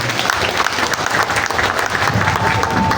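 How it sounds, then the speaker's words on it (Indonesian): Audience clapping for children at a Quran completion ceremony, a dense burst of applause close and steady throughout. "Tepuk tangan untuk anak-anak."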